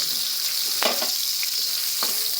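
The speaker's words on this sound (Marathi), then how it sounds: "याच्यामध्ये ना थोडे थोडे बॉम्बे टाकून फ्राय करून" Dried bombil fish frying in hot oil with garlic and chillies, a steady close sizzle broken by a few soft stirring clinks, no voices.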